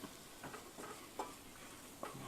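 A roux of equal parts butter or oil and flour cooks in a pan for oyster stew, giving a quiet, steady low sizzle broken by a few soft stirring scrapes. No one speaks.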